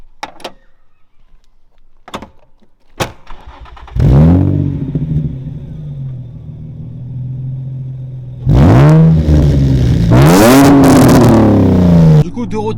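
A Nissan 350Z starts and its engine rises into loud revving as it pulls away, with clicks and a door sound before, and talking throughout.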